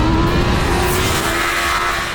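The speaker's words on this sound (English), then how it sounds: "as you exit onto the straights, that's where you can experience the full fury of this new engine" A 2023 BMW S1000RR superbike's engine pulls hard out of a corner onto a straight, a loud sustained rising howl with rushing wind, steady throughout with no gaps.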